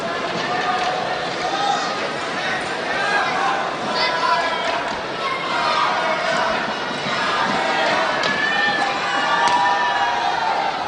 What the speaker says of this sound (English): Oh, there's a collective gasp from the crowd.